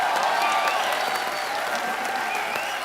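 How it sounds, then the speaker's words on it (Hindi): A studio audience at a television comedy show claps in a brief, steady burst of applause, full and close, with no one talking over it. "तो जोरदार तालियां।"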